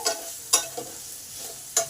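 Potatoes fry quietly in oil while a spoon scrapes and stirs the pan in a few sharp, separate strokes, with no talking.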